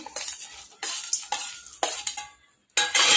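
Dry spices including amchur powder are stirred and scraped around a bowl in quick bursts with short pauses, close and fairly loud, with no voices.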